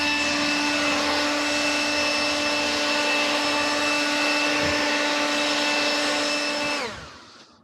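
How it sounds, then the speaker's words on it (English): A Toro 120 MPH cordless leaf blower runs close by with a loud, steady, high-pitched whirring roar for about seven seconds, then cuts off and spins down quickly. "This thing is not a sweeper. This thing is a blower."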